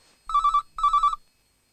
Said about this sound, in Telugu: ఫోన్ రింగ్ అవుతుంది.